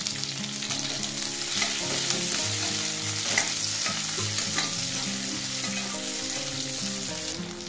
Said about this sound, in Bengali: এবার আমি এই তেলের মধ্যে দিয়ে দিচ্ছি দুটো পেঁয়াজ, একটু এরকম রাফলি কেটে নিয়েছি। এটা হালকা ভেজে নেব।